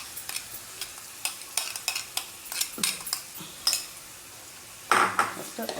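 A ground paste of cashew, onion and green chili drops into a hot pan for malai chicken handi, with repeated close spoon clinks and scrapes against the metal and a brief sizzling burst near the end, no voices.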